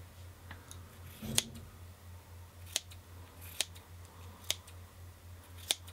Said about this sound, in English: Trim your wick as well, all the way around.